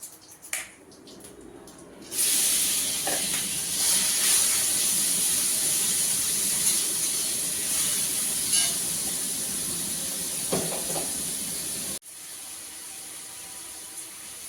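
Tomato fries in hot oil in a home kitchen, a loud close sizzle and hiss that starts suddenly, runs steadily with occasional spits and crackles, then drops off sharply near the end.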